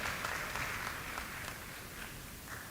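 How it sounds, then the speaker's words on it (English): Faint, steady applause from an audience at a National Substance Use Prevention Week event for the chair and guest of honor, a distant wash of clapping throughout with no talk. "A round of applause to our chair and guest of honor."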